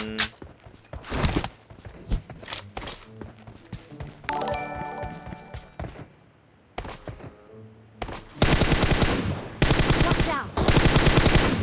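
Gunfire in PUBG Mobile: scattered single shots and clinks, then two loud sustained bursts of rapid automatic fire toward the end.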